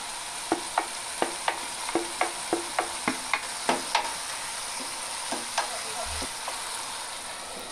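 Flat beans go into a pan with potatoes, crackling in a steady sizzle while a spatula taps and scrapes in a regular rhythm of sharp clicks that thin out toward the end.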